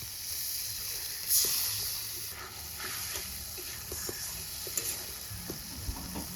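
Spice paste with melted tomato, turmeric and chilli powder, loosened with a little water, sizzles and bubbles in a pan for a silver carp curry, with occasional light taps and scrapes of stirring under a steady hiss.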